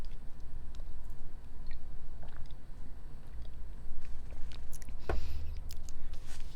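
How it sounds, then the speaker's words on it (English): Close, quiet chewing of food, soft wet mastication and occasional crunchy bites over a low background hum, with one sharper crunch near the end. "I hope the chewing isn't too loud."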